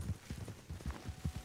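Horse hooves clip-clopping at a steady trot in the video game Red Dead Redemption 2, a regular rhythmic run of soft, close thuds with no talk over them.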